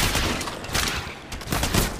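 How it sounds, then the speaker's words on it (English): Loud, continuous gunfire from a battle royale match in Apex Legends Mobile, with rapid overlapping shots and bursts that swell and fade over two seconds. "I'm taking fire"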